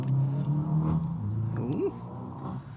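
A car with a loud exhaust drives past, its engine growling and roaring up near the start and then fading as it moves away.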